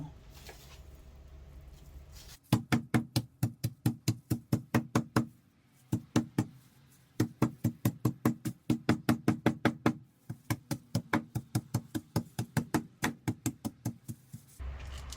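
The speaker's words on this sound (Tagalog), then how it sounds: "At paluin ng martilyo." Rapid, sharp hammer blows pound in quick bursts of steady rhythm, pausing briefly between runs, loud and close.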